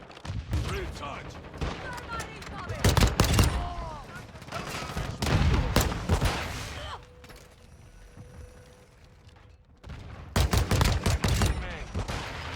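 Bursts of rapid gunfire and single shots ring out in a video game battle, loud and repeated, with a quieter mechanical lull in the middle and shouted voices between the volleys.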